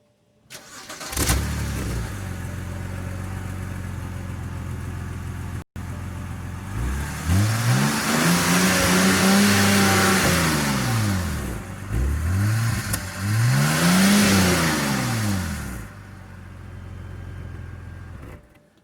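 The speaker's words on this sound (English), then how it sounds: "this is the first car, the BMW 325i cold start" A BMW 325i cold-starting, the engine catching with a loud crank and then settling to a steady idle before two rising-and-falling revs, all close by and with no talk.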